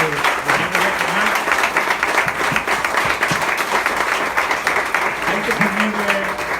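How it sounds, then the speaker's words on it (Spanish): An audience claps at a book presentation, a loud, sustained wash of many hands close by, with a voice and brief murmurs rising over the applause. "pido un fuerte aplauso para Mónica, si me lo permitís"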